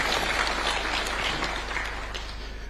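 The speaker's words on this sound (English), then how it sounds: "I humbly request that we give a round of applause to these great men and women of our Republic" Audience applause at a university charter award ceremony for an Islamic university, a steady dense clapping from a crowd that holds level and then slowly fades slightly, with no speech over it.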